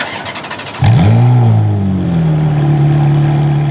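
A Ferrari F430 Challenge race car starts with a sharp crank and catch, then its engine roars up loudly and settles into a deep, steady idle close by.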